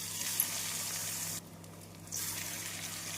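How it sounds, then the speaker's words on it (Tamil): Sweet potato cutlets coated in wheat flour and breadcrumbs frying in hot oil over a medium flame: a close, steady hiss of bubbling oil that dips briefly in the middle and then resumes, with no voices. "எண்ணெய் நன்றாக சூடானதும் கட்லெட்டை போட்டு விடலாம்."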